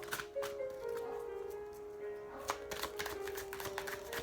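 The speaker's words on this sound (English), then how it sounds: "as I'm shuffling" A deck of oracle cards, including the Nature's Whispers and Native Spirit decks, shuffled by hand in soft, irregular riffling taps under a steady background tone.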